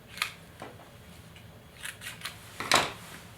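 Scissors cutting material for a December Daily scrapbook page with plastic hearts: a few faint, close snips and rustles scattered over a few seconds in a quiet room.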